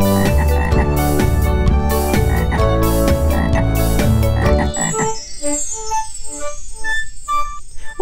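Frog croaks come in a children's song about a frog at the edge of a pond. Loud music plays first, then it drops away and a run of rhythmic, throaty croaks repeats clearly on its own.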